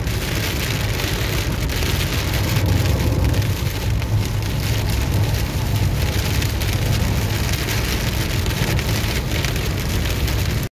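Heavy rain in Saudi Arabia pours down steadily and loudly, a dense unbroken hiss of drops drumming on surfaces for the whole stretch with no voices.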